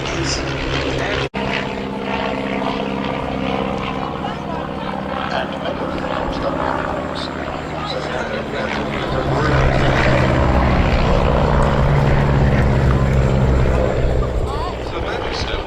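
A Miles Magister trainer aircraft flies at a Duxford Battle of Britain air show display, its propeller engine droning continuously under a commentator's voice, growing louder and fuller in the second half as it passes nearer.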